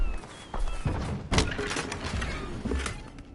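The Bombarda blasting spell strikes in a Hogwarts video game, a sharp close thud with a breaking crack that sits over a steady, noisy game background.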